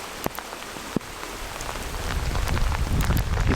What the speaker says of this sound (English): Because it's literally hailing now.